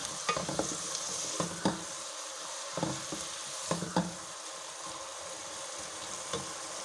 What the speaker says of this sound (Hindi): यहाँ पे प्याज हमारा हल्का हल्का फ्राई हो रहा है।